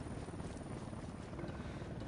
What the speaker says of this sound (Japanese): 待て待て、ヘリが。